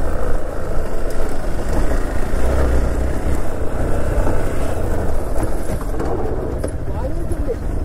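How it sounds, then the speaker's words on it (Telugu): Heavy vehicle traffic, trucks and tractors, rumbles past near a motocross track, a steady loud low roar of engines and road noise that stays dense throughout. "ఏదో ట్రక్కులు పోయినాయి"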